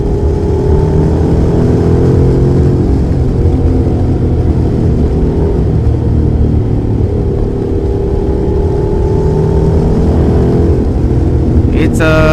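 Honda NC750X motorcycle with throttle-by-wire on a race track, its engine droning steadily with shifting revs under heavy wind rush, a brief sharp burst near the end.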